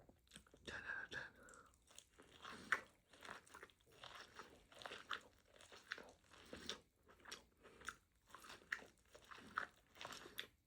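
Close, wet chewing and biting of elote corn and a fried avocado taco, with repeated crunchy bites and mouth sounds at a steady rhythm over about ten seconds, alone without talk.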